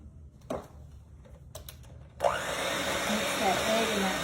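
An electric mixer blends egg and vanilla into peanut butter cookie dough. A couple of faint knocks come first, then the motor starts suddenly and runs as a steady close whirring drone.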